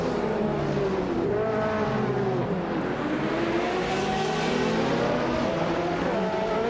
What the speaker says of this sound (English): Reinecke has shot off the line to take the lead.